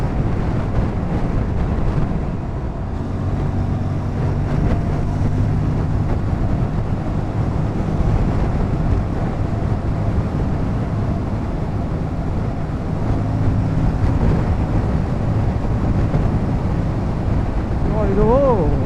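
Aprilia RS457 motorcycle with its stock engine, riding on the road: a continuous engine hum that rises and falls under heavy wind buffeting, with faint rising tones near the end.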